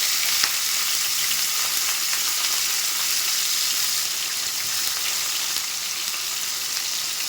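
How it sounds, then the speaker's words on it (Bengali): Chopped onion and crushed garlic fry in hot oil with a constant close crackling sizzle, and faint stirring scrapes run through it from start to finish. "তেলটা গরম হয়ে গেছে, এখানে পেঁয়াজ কুচি আর রসুন থেতো করে একটু দিয়েছি, সেটা দিয়ে দিচ্ছি।"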